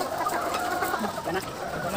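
Ready-to-lay chickens cluck softly in a coop, with a steady murmur of overlapping clucks and low calls that stay fairly faint and continuous.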